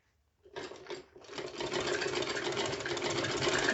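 A sewing machine runs steadily as it double stitches thick lace onto a frock neckline, making a close, continuous mechanical whirr after a brief start-and-stop at the beginning, with no voices.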